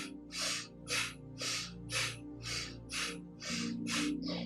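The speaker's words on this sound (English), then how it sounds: "We're going to do breath of fire here." Breath of fire yoga breathing: about nine quick, forceful, evenly spaced nasal breaths, close and loud, over a steady low musical drone.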